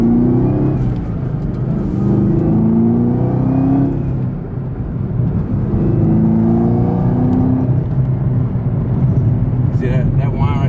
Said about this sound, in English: like just so you can hear the supercharger.